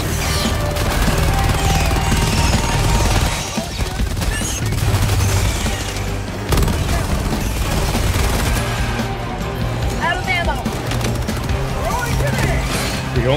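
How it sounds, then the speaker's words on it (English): Dense bursts of gunfire and explosions from a Helldivers 2 game session, with rapid shots and booms running nonstop at close range while players talk over the barrage. "So many explosions!"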